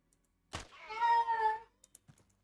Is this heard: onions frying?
no